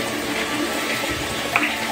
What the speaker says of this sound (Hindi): इसमें ना हम थोड़ा थोड़ा पानी दे दे के इसको कर लेंगे